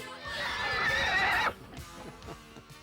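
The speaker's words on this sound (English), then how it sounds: "What breed of horse is this? Why, it's a Palomino." A Palomino horse neighs in one long, loud whinny of about a second, followed by faint soft snorts and shuffling close by.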